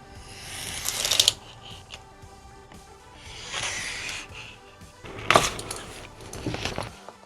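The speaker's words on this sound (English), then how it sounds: "we're gonna go ahead and cut a piece of vinyl out for this." Carbon fiber vinyl wrap for a Z900 tank fairing is cut, giving bursts of crisp slicing and rustling separated by quieter handling sounds, close and moderately loud.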